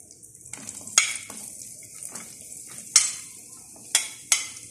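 Diced onions sizzle in melted butter in a pan for buttered garlic shrimp, a steady soft frying hiss broken by sharp utensil scrapes and stirring clatters, with no talking.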